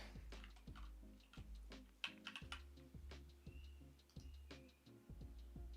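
Keystrokes on a computer keyboard come in quick uneven bursts with brief pauses, close and fairly quiet, with no voices.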